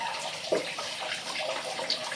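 Water runs steadily from a sink faucet into a wide double-basin sink, a smooth continuous broadband rush with a few small splashes.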